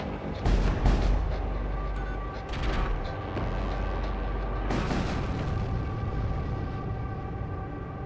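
Flak guns firing in the space combat game Void War, a dense barrage of deep booming bursts with heavy low rumble, strongest in the first seconds, then a sustained roaring layer of continuous fire and blasts, loud and close.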